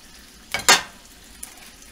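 Bacon, eggs and fried potatoes in a pan give a short sizzle that swells into a louder burst of frying or stirring, then settles to a faint crackle, close by with no talk.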